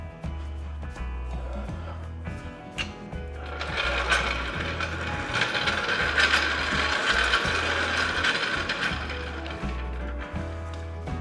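A ratcheting jack lifts a car, its pawl clicking in a steady repeated rhythm of close, mechanical strokes, joined midway by a louder metallic grinding rattle.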